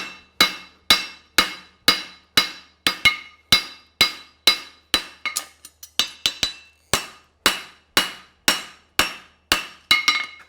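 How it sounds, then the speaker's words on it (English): Hammer blows ring out on a steel horseshoe heel at a farrier's forge, about twenty sharp, evenly spaced strikes, loud and close, with a brief flurry of lighter taps partway through and no talking. "Forge my heel. Forge it, get it nice surface."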